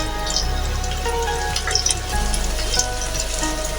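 Cut potatoes with a little turmeric powder fry in hot oil for a capsicum and potato dish, making a continuous soft sizzle and bubbling with a few brief spatters. Nobody speaks over it.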